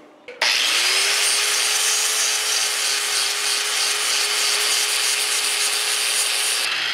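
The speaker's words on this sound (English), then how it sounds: "We're going to use a flap disc on a grinder." An angle grinder with a flap disc grinding an aluminum engine block, starting up abruptly and holding a loud, steady high whine with harsh abrasive hiss for several seconds before stopping.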